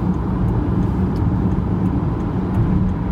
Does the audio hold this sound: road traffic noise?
yes